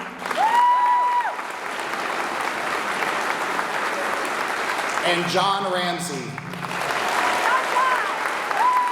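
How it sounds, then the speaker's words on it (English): Audience applause at a class day ceremony, a steady wash of clapping running through the clip while a voice announces a name and speaks over it. "Let's give them all a round of applause"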